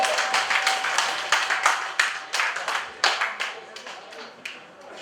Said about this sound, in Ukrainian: Під ваші оплески файно хлопаємо, не жаліємо.